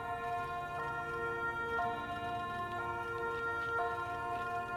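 Sirens in the Voices of the Void game drone as a steady, faint, layered tonal wail with slight periodic pitch shifts every second or so, distant and unbroken.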